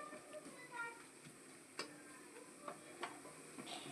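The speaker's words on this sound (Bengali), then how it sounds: "তারপর পেঁয়াজ দিয়ে ঘরে যা মশলা আছে তা পরিমাণ মতো দিয়ে এখন নাড়াতে হবে ভালো করে" Onion and spices being stirred in hot oil in a wok with dried red chilies, a faint steady sizzle under soft scraping and occasional taps of the spoon, quiet and close.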